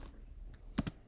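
Two quick, crisp computer keyboard key presses land near the end of a quiet moment, the second slightly softer, close and faint overall.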